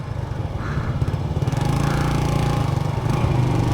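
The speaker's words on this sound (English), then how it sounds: "it's got a factory exhaust on this one, so it's really quiet" A 1987 Yamaha SRX250 motorcycle with its factory exhaust runs quietly nearby, its single engine note pulsing evenly and building a little in level over the few seconds.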